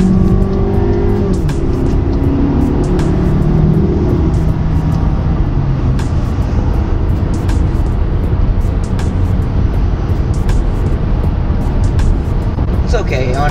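A 2018 Volkswagen Tiguan S 4Motion with a 2-liter turbo engine accelerates to pass, its rising engine drone steady and loud over road and tire noise from inside the cabin.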